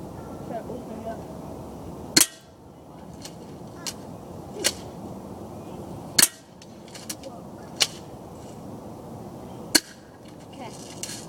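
A Crosman Stinger S32P airsoft gun fires BBs at a bottle across an outdoor yard, giving four sharp, isolated snaps a few seconds apart, with faint softer clicks in between over quiet background.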